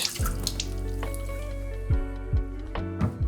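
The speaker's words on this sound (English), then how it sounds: "Pour the dirty water into the sink." Dirty water from an Oyster Tempo cooler pours into a sink in a short, splashing stream, with a few louder gulps and splats near the end.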